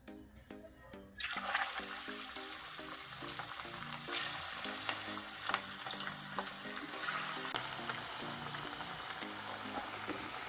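Onion vada dropped into hot oil for deep frying, a loud, steady bubbling sizzle that bursts in suddenly after a quiet start and keeps crackling close and full with no voices.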